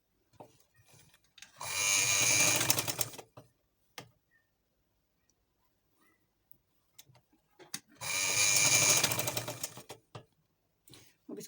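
Electric sewing machine stitching gathers on a newborn baby frock, two loud close bursts of rapid whirring stitching separated by quiet pauses with small handling clicks.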